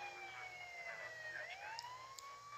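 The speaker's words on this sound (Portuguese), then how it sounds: "A gente tem que andar com a sirene já ligada" Wailing electronic police siren from a patrol car in the Police Patrol Simulator video game, a steady sweeping tone that dips and rises again, loud and close over low engine rumble, with no talk.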